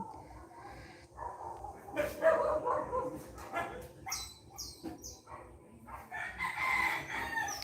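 Native chicken rooster crowing in a rural Philippine yard, several long crows and clucks in a busy mix with a dog barking nearby and faint voices in the background.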